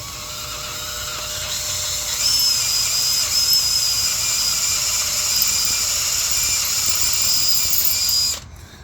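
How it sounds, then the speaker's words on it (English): A power drill whines steadily at high pitch for about eight seconds, loud and close, boring a quarter-inch hole, then cuts off abruptly. "I'm going to drill this hole, the final size, to 1/4 inch."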